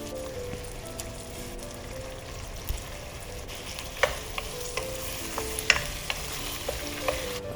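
Tomatoes, garlic and red chilies roast in a pan with a steady low sizzle, punctuated by occasional sharp clicks and scrapes of stirring, close and without speech.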